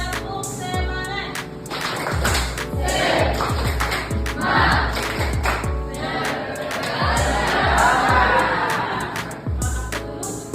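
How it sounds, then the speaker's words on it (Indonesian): Classroom group performs a rhythmic spirit clap, tepuk semangat: a loud, patterned series of sharp hand claps in quick bursts with pauses between, cheerful voices and crowd noise mixed in near the end. "Kita tepuk semangat."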